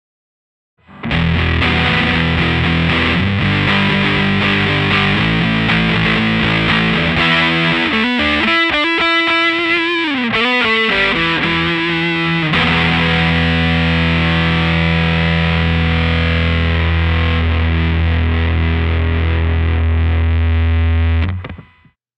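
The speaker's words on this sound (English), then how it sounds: "Now with the distortion turned up to 3 o'clock." Overdriven electric guitar through a Godcity Instruments Brutalist Jr. distortion pedal set medium plays chugging chords and a brief bending lead, then holds a long sustained low chord before stopping.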